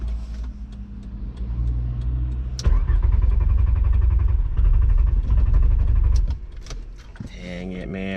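A VR5 Savoy car engine cranks and churns in a steady, labored rhythm, strains louder for several seconds, then cuts out before a brief restart attempt, with a voice nearby.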